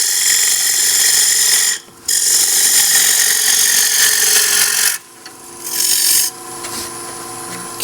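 A bowl gouge cutting a wood bowl blank spinning on a lathe, a loud steady rasping shear of tool on wood in long passes broken by two brief pauses, ending quieter.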